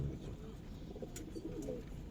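Colouring pigeons on a Bangladeshi pigeon farm giving soft, low cooing notes, quiet and close, with a brief faint chirp in the background.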